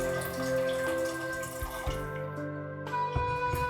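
Hot water splashes and trickles steadily into a pressure cooker, close up, with faint drips and a soft clink near the end.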